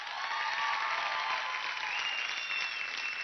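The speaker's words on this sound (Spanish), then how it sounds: "para quien pido un fuerte aplauso" Applause fills a televised tribute gala honoring Osmel Sousa, a dense, even clapping from a large audience that carries steadily throughout at moderate loudness, with no voices over it.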